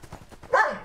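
A dog barks once, close and fairly loud, while jumping and digging on a bed indoors, with soft rustling before it.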